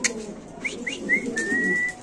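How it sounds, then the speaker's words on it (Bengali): A Spanish gorgori pigeon coos close by in a short series of rising whistled notes, ending in a longer drawn-out call, over a low rumbling background. "এই কবুতর ডাকতাছে ভাই"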